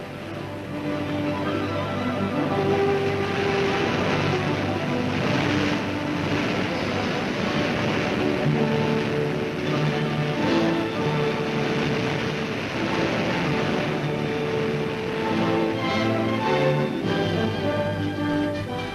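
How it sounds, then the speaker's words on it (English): River water hisses and roars over the rapids at Little Falls on New Brunswick's river, a loud, continuous rushing that fills the whole stretch without a break. "the water is still hissing and roaring over Little Falls"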